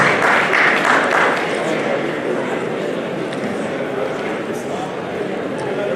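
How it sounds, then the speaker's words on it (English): Sustained applause from a large audience at a professionals-in-politics forum in Nigeria, a loud, dense wash of many hands clapping that stays steady throughout and eases slightly toward the end. "Please put your hands together for him as he comes up. Let's clap for him, please."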